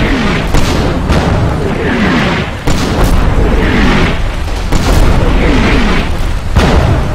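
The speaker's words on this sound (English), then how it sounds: "And the Germans are mortaring, although I don't think they hit anything" Mortar fire from German forces in the WWII strategy game Combat Mission Final Blitzkrieg: a dense, loud rumble of booming explosions, with several heavier blasts landing roughly every second or two and no speech over it.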